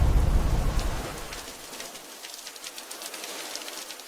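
Steady rain falls across a surface, a dense broadband hiss with scattered drop ticks, louder at first and then settling into a softer, even patter with no voices.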